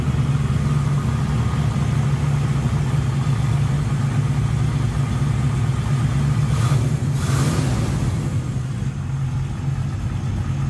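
A 1967 Pontiac Firebird coupe engine running after warm-up, a loud, steady low rumbling idle close by that holds constant throughout, with a brief rise around the middle before settling.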